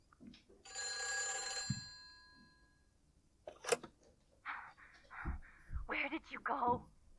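A telephone in the horror video game Silent Hill 4 rings once, a clear harmonic trill lasting about two seconds, followed by knocks and someone speaking.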